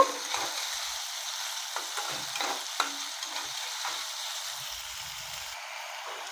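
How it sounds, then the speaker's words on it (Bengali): Chopped tomato being sautéed with vegetables in a pan for a winter bhetki fish dish with beans, cauliflower and potato, giving a steady close sizzle with scattered soft stirring scrapes and taps, no talking. "টমেটোটা দিয়ে আবারও একটু কষিয়ে নেব।"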